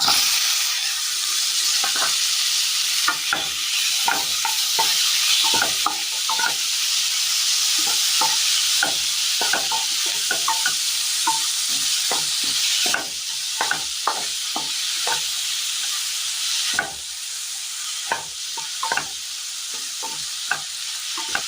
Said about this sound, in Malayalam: ഇതിലേക്ക് വെണ്ടയ്ക്ക ഇട്ട് കൊടുക്കാം. 2 പച്ചമുളക്.